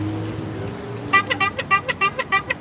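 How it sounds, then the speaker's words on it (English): A car horn honks in a run of about eight short beeps in steady rhythm, loud and close, after a brief stretch of low rumble, in New York City. "That was 5 honks for you."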